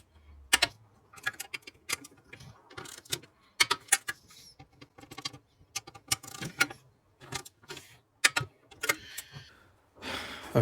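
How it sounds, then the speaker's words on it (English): A torque wrench tightens 10mm bolts on a Range Rover sump pan, with a series of sharp, irregular clicks and ratcheting taps close by and quiet in between, no talk. "Just going to do our 10mm torque"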